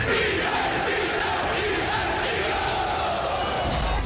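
Raucous Philadelphia Eagles crowd at the NFC Championship game against Washington, a loud continuous stadium roar of shouting and cheering that fills the whole stretch without letup.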